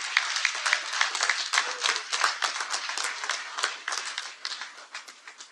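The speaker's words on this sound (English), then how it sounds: "Give them a round of applause." Fraternity members at an Omega keynote event give a round of brisk, crisp applause, many hands clapping continuously and evenly throughout, with no voices over it.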